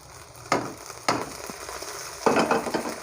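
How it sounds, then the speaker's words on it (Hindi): Ginger garlic paste and tomatoes drop into browned onions frying for Bombay chicken biryani, each addition bringing a sharp hiss, three distinct bursts over a low steady sizzle. "अब हम इसके अंदर अदरक लहसुन का पेस्ट डाल देंगे और साथ ही हम इसके अंदर टमाटर डाल देंगे"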